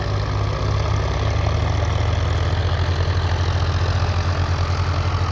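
A VST Shakti 9054 tractor engine runs at a steady idle nearby, a continuous loud low rumble with an even, slightly knocking throb throughout and no voices.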